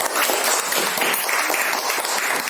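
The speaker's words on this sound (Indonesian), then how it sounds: "Ya, tepuk tangan semua." A classroom of pupils claps after a group leader's report on an electric circuit experiment, a brief, loud burst of many hands beating unevenly for a couple of seconds.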